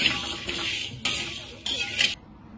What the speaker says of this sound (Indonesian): ini masih panas ya kangkung gorengnya, jadi agar tetap kita aduk ya, jadi bawah nggak gosong